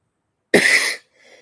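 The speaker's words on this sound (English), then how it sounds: "I'm coughing early today" A single sharp, close cough from a man, followed by a faint, brief throat sound in an otherwise quiet moment.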